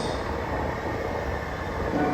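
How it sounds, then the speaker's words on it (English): A San Francisco Muni train rumbles steadily throughout, a continuous broadband roar of wheels and motor heard from nearby, with no speech over it. "So this is my train. It is going to Caltrain stop."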